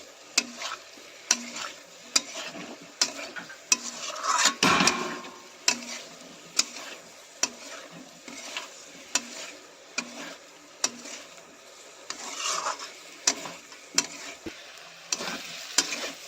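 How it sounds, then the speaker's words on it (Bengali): Potato and pointed gourd (patol) pieces stirred through hot spices in a pan, a steady sizzle under repeated scraping strokes of a spoon against the metal, close and fairly quiet, with no talking. "মশলার উপরে আলুর পটলটা দেওয়ার পরে কিছুক্ষণ নেড়ে চেড়ে নিয়ে"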